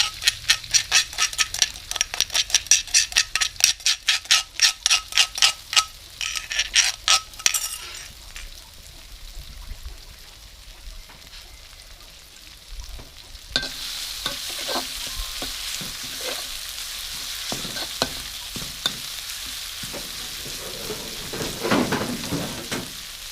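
Garlic fries in a pan for a Thai-Isan style mixed holy basil stir-fry, first a rapid run of metallic utensil clinks and scrapes, then a steady loud sizzle with scattered stirring knocks.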